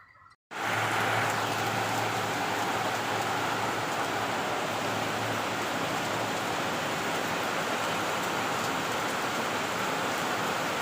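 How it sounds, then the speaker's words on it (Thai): Heavy rain pours down in a steady, dense roar that starts abruptly after a brief quiet moment and stays loud and unbroken, with a low hum underneath. "ฝนตกแรงมากพี่น้อง"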